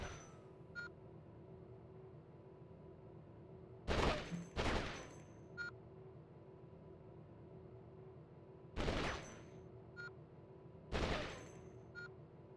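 Loud rifle shots fired at targets in the Conflict: Desert Storm video game, arriving as separate bursts of two, then one, then one, against a steady hum of game ambience.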